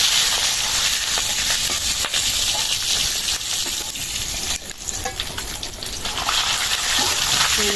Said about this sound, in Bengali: হচ্ছে মাছ ভাজা